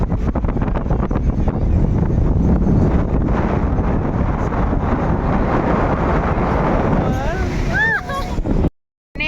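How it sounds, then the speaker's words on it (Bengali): Strong sea waves and gusting wind at Digha beach, a loud roaring wash of surf and wind buffeting the microphone, with a voice speaking briefly near the end before a sudden cutout. "আমি কম করে 20 থেকে 25 বার দীঘাতে এসেছি, কিন্তু এইরকম ঢেউ এরকম হাওয়া আমি পাইনি আগে"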